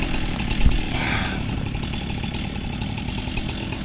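A Husqvarna chainsaw runs near a downed tree across a creek, its engine droning steadily and loud close by, with a brief sharper burst early on and then an even idle-like buzz, with no voices.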